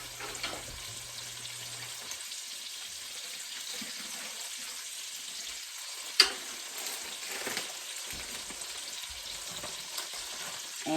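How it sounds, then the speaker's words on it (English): Peppers and yellow onion sauté in a pan for burgers, giving a steady, fairly quiet sizzle throughout with a few brief clinks and stirring sounds and no talking. "peppers and onions are going in. And I'm just going to saute them up"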